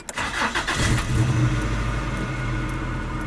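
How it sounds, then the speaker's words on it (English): A Subaru engine with a flashing check engine light cranks and catches, then settles into a steady, loud idle with a low rumble. "And you're going to want to start your car."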